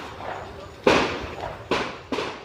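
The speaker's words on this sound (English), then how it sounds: "you can hear the sounds of gunfire in the distance, probably from a handgun" Sharp distant reports, probably from a handgun, crack out three times at uneven intervals over a constant outdoor rumble near a prison.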